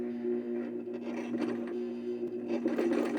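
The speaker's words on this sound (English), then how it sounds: "see if we can get some sort of a zigzag stitch" A Brother VX 1100 sewing machine runs a zigzag stitch, a steady mechanical whir with a strong hum and light rhythmic clatter, close and continuous, growing slightly busier toward the end.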